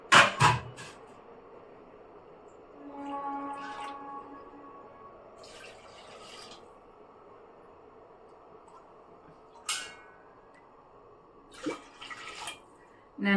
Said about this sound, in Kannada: ಇವಾಗ ಸ್ವಲ್ಪ ನೀರು ಹಾಕೋಣ.